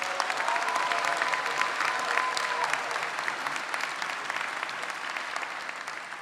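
Steady applause from a large commencement audience at the Mid-Hudson Civic Center, a dense wash of clapping that stays even and loud throughout before easing slightly near the end.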